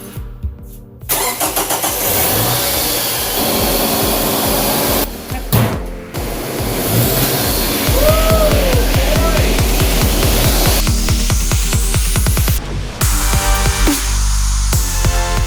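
A 2010 Scion xB with a newly installed Exedy stage 1 racing clutch cranks and starts, then its engine runs and revs loudly and close, with brief pauses and changes in pitch.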